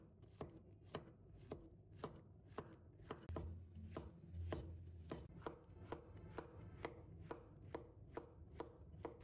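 Knife slicing two shiitake mushrooms on a cutting board, quiet and close, with crisp chops falling in a steady, even rhythm about twice a second.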